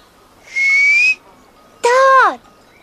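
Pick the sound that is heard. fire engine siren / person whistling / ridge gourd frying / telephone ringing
person whistling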